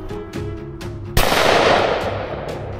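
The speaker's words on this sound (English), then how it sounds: "Doing a bit of roost shooting now." A single loud shotgun blast during pigeon roost shooting on a private estate, a sharp crack with a long rolling decay, preceded by faint tapping and woodland ambience.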